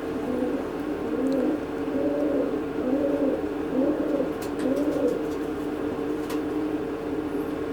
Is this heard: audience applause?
no